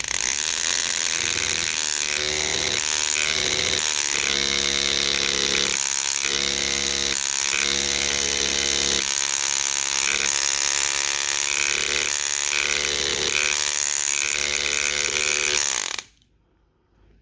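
A loud, continuous mechanical whir with rapid, rattling hammering pulses runs steadily, then cuts off abruptly near the end.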